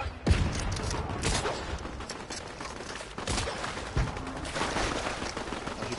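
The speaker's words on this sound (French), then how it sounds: "Ça tire partout." Heavy gunfire erupts from every direction in a PS4 shooter, a dense, continuous crackle of shots with sharp louder bursts standing out near the start and middle, no voices.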